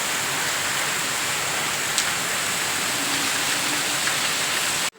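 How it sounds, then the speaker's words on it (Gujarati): Heavy rain pours down in a steady, dense hiss that fills the scene evenly from start to finish, loud and unbroken, without any voices. "જોઈ લો વરસાદ કેવો આવે"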